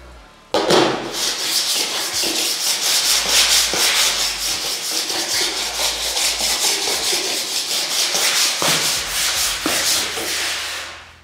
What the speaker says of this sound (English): just run a flat file. So this is a lathe file, a fine lathe file.